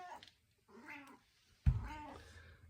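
A cat meows several times nearby, short plaintive calls followed by a louder, strained yowl.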